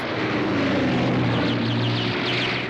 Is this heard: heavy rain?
no